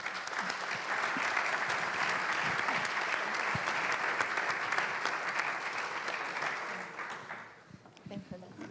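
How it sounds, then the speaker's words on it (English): Sustained applause from a conference audience thanking a panel at a data spaces event, a dense steady wash of clapping for about seven seconds that thins and fades out near the end. "a big applause to all of them, please"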